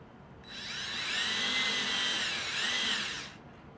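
A power drill whines steadily as it bores a small hole into PVC pipe, spinning up, holding a high pitch for about three seconds, then stopping, close and fairly loud.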